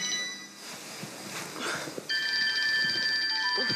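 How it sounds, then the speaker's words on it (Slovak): A telephone rings with a steady electronic trill that starts midway and continues loudly, after a stretch of quiet room noise. "Zvoníte telefón."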